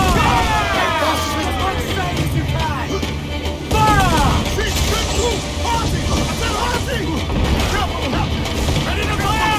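Booming cannon volleys from a pirate ship in Assassin's Creed IV Black Flag roll out in repeated heavy blasts amid naval battle noise, under urgent shouting crew voices.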